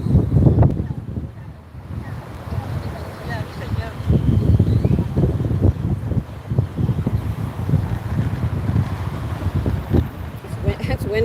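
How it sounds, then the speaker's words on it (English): Steady wind roars and buffets the microphone in gusts, with a rushing, surf-like wash underneath. "windy there too. I can hear it on our speaker."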